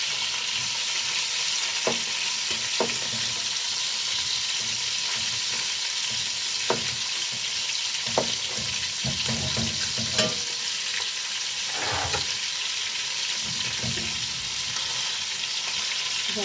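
Chicken sizzles steadily in oil in a large pot, a constant loud hiss broken by occasional stirring scrapes and pops.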